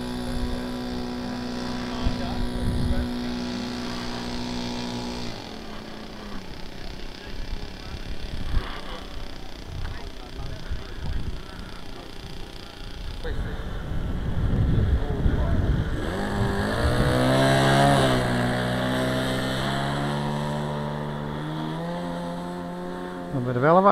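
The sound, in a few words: Seagull Swift RC model plane engine during takeoff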